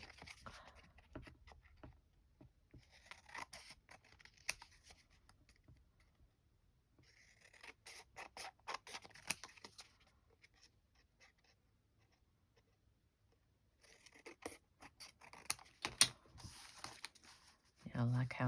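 Scissors trimming paper for a vintage handmade journal, soft close snips and paper rustles in several short bursts separated by quiet pauses, with occasional talking.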